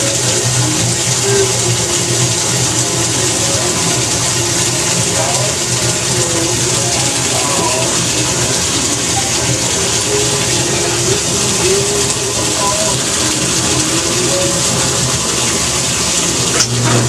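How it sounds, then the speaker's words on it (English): Water rushes steadily into a 2000 Sears Kenmore washing machine tub as it fills, a loud, constant hiss and splash without pauses. "the sensor has detected that the water is filled up enough, and the machine's beginning to run"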